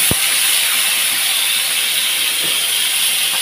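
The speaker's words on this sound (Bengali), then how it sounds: "পটলটা একটু ভাজা হতে থাক।" Pieces of pointed gourd (potol) fry in a pan with a loud, constant sizzle, steady and close, broken by a couple of faint knocks.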